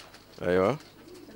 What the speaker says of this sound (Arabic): ده حمام السلام